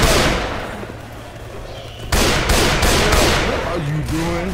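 Sniper rifle gunfire in a video game: a loud, sharp burst of shots cuts in about halfway through, following quieter background rumble and distant firing.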